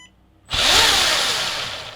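FMS FCX10 Chevy Blazer RC crawler electric motor spinning up at low speed, a sudden whirring whine that starts after a short quiet moment and holds steady, close up.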